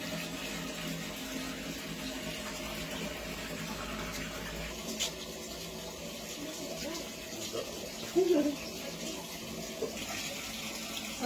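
Water runs steadily from a free public tap as someone fetches it, a continuous splashing gush that holds throughout with a few small knocks and clatters.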